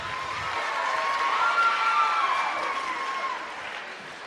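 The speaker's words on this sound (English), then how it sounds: "Give these guys a round of applause as they come up." Audience applause with cheering as volunteers come on stage at a motivational youth talk, a swelling wash of clapping and crowd voices that peaks midway then eases.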